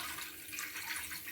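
Water poured into a cooking pot for boiling sago and moong dal for payasam, a steady soft splashing rush, close and continuous, with no speech.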